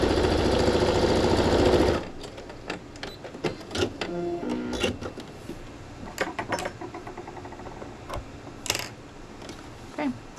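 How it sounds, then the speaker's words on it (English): A sewing machine runs in a fast, loud, steady burst stitching binding onto a king-size quilt, then stops abruptly, followed by quieter clicks, handling of the fabric and a few scattered knocks nearby. "and then I sew it."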